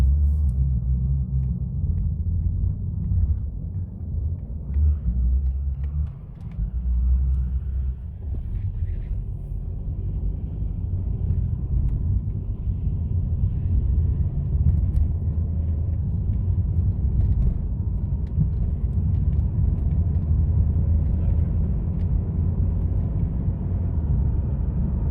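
Repaired Honda Fit with a CVT transmission driving along, a steady low engine and road rumble filling the cabin for the whole stretch, with no clear shift steps and no talk.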